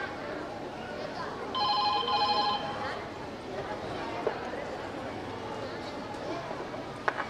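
A single short burst of telephone ringing sounds amid a voice speaking and some background noise.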